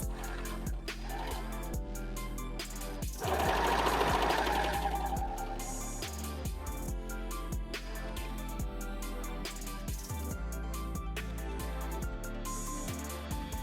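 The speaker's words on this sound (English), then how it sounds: "now we're just pinning our pieces together so we can serge the ends" A serger sewing machine stitches fabric for a one-shoulder mermaid prom gown, a fast mechanical whirring in bursts that rises briefly louder, heard over steady background music.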